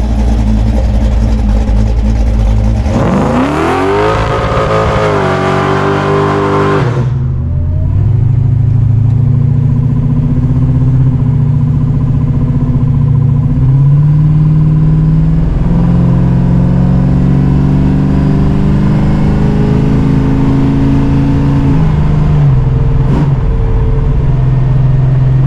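An old car engine being tuned for cold and hot starts idles loud and close, with a short rising rev burst early on and then a steady, slightly wavering rumble.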